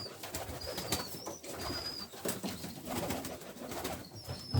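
Pigeons in a Scottish breeder's loft in Dundee cooing repeatedly in soft, throaty calls, several birds close by, with faint rustling and scattered whistle-like chirps in the background.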